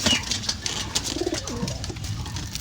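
Pigeons coo softly inside a loft, a few low rolling coos heard close but quiet over faint background rustle.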